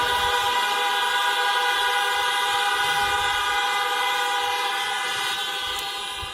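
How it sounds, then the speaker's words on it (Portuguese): Car horns honk together during a church service, blending into one loud, sustained chorus that carries through the whole stretch and softens slightly at the very end. "Em nome de Jesus, buzina mais, glorifica mais."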